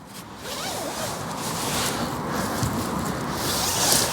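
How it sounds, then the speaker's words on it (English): The J-style zip on a Naturehike tent is drawn open in one long, steady, close rasping pull over faint outdoor wind. "they've changed the zips on these, so it's like a J style zip instead of a T."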